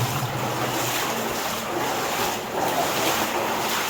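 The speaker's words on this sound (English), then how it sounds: "We're getting close to that noisy water." Water rushes through a flooded old lead mine as a steady, broad roar that stays loud and unbroken, close by in the underground passage.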